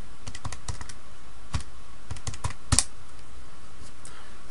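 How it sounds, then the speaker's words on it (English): Fingers tap out numbers on calculator keys, a sparse series of light, close clicks with uneven pauses and one sharper press near the end, no voices. "type that in the calculator and see what you get"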